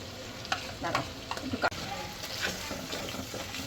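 Beaten yogurt going into a frying spice mix in a pan, with loud wet sizzling and spoon scrapes and stirring knocks up close, then a steady fry beneath.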